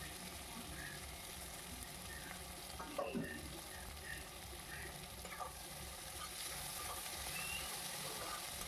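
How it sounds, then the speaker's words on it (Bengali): Whole garlic cloves and chopped onion fry in a pan for a mutton curry, a faint, steady sizzle with a brief stirring scrape midway. "দিয়ে দিচ্ছি গোটা রসুন আর কুচনো পেঁয়াজ। পেঁয়াজটাকে আর রসুনটাকে আমি লালচে করে ভেজে নেব।"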